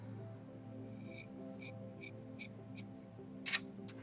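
Faint rasping cuts through quilt fabric backing for a garden trellis quilt, about seven short, evenly spaced strokes over a low background hum.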